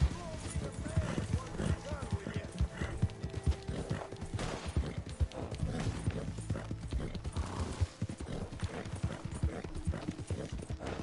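Horse hooves clip-clop and gallop across the ground in Red Dead Redemption 2, a dense, uneven run of thuds with game effects, while a player talks over the action.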